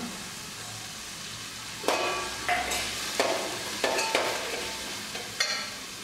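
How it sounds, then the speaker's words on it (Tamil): Curry leaves and spices sizzle softly in hot oil for a Chettinad chicken masala, with several distinct scraping strokes of a stirring utensil against the pan over a low, steady fry. "இந்த வெள்ளைப்பொடியும் போட போகிறேன் கருவேப்பிலை போட்டுக்கலாம்"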